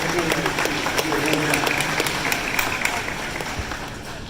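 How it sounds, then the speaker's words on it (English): Audience applause at a fire academy graduation dinner ceremony, dense steady clapping throughout with some crowd voices mixed in, fairly loud and close, fading slightly toward the end. "Let's have a round of applause for"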